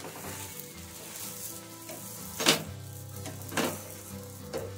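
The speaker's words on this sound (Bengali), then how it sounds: "আমরা আস্তে আস্তে সবকটা রুটি এভাবে আমরা সেঁকে নেব।" A roti toasts in a hot pan with a soft, steady sizzle, swelling into three short louder hissing bursts as it is pressed down.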